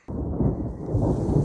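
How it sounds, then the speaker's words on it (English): Thunder during a thunderstorm on the Colorado Trail breaks suddenly into a loud, deep, close rumble that rolls on steadily. "It's gotten very dark out and lots of thunder."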